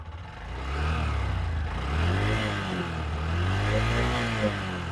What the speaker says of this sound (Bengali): ইঞ্জিনের সাউন্ডটা সেরকম স্মুথ